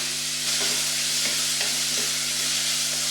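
Onions fry in a pot alongside fish and vegetables, giving a steady close sizzle with light stirring scrapes scattered through, and no talking.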